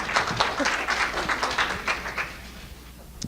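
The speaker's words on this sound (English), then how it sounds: "Huge applause for such a great attendance." An audience at an International Women's Day event in Dallas, Texas applauds with a dense burst of clapping that gradually thins out and fades over a few seconds.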